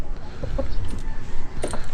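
A two-year-old fighting rooster clucks a few short times up close over a noisy outdoor background, with scattered rustling and low rumble.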